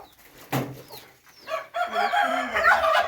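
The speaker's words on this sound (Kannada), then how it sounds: "ಕೋಳಿ ಇದಾವೆ ನಾಟಿ ಕೋಳಿ" Native country chickens cluck and squawk close by on a farm in short bursts, with bird calls mixed in and no talking.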